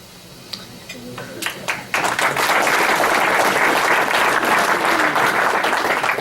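A few scattered claps at a high school student-of-the-month Rotary event swell into full, loud audience applause that continues steadily to the end.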